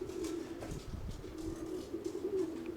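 Pigeons outdoors after a night of rain in a southeasterly wind give a steady low cooing murmur, faint and distant, with light background noise and no voices.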